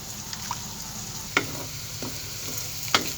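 Sliced onions fry for a rice biryani in a pan, a soft steady sizzle broken by a few distinct scraping stirs of a spoon at uneven intervals, with no talking.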